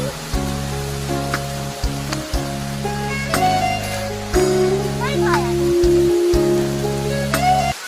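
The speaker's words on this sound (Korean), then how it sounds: "근데 지금 본의 아니게 비가 오고 있습니다" Rain falls steadily on a campsite beside a valley stream at a healing park in Uiryeong, Korea, a constant soft hiss that carries on beneath someone talking close by.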